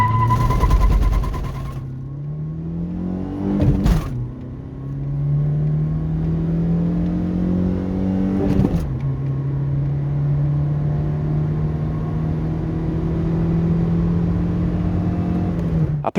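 A 1989 Opel Vectra with a 1.6i petrol engine rated at 75 hp accelerates hard through the gears, its loud cabin drone climbing in pitch, dropping sharply at each of two shifts, then rising again.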